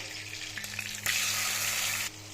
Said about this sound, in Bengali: একইভাবে বাকি চিকেনগুলো এখন ফ্রাই করে নেব